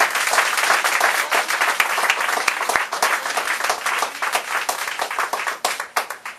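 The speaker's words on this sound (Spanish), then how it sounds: "le pido que usted le dé un fuerte aplauso" A church congregation gives a speaker a sustained round of applause, dense overlapping claps throughout, fairly close and loud, with no talking.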